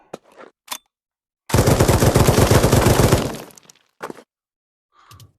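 Rapid automatic gunfire from a VR zombie shooting game, a dense two-second burst of close, loud shots, framed by a few isolated single shots before and after.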